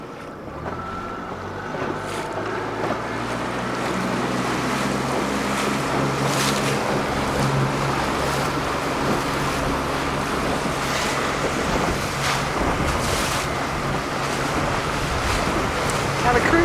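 A small boat runs slowly through choppy, lumpy sea near Cabo San Lucas, a steady engine drone under rushing water, wave slaps and wind buffeting the microphone, with no voices.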